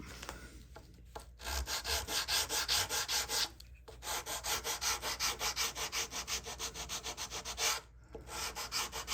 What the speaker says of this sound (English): I'm going to do some sanding with